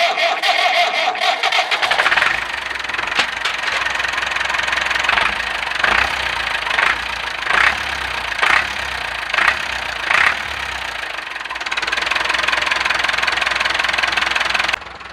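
A Massey Ferguson 165 diesel tractor engine cranks, then fires unevenly in a string of knocking bursts before catching and running steadily, loud and close.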